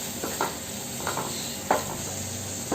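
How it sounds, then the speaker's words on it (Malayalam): Chopped tomatoes sauté in a pan with a soft, even sizzle, punctuated by three or four brief spoon scrapes against the metal. "തക്കാളി ഒന്ന് സോഫ്റ്റ് ആകുന്നത് വരെ വഴറ്റി കൊടുക്കുക."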